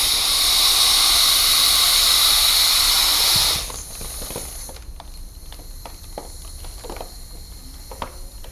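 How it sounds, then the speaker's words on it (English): A machine pumps air into a foil heart-shaped monkey balloon with a loud steady hiss that cuts off abruptly, leaving faint crinkling and soft handling noises. "inflating a foil too quick on a machine can create a little bit of heat and possibly melt"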